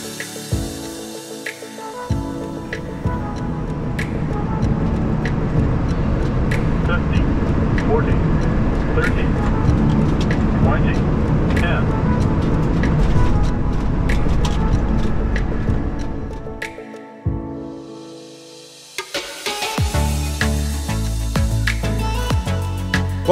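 Steady broadband roar inside a Porter Airlines Embraer E2 jet cabin on landing approach into Las Vegas, loud and continuous for most of the span, easing off near the end before a fresh burst of rumbling noise; people talk over it.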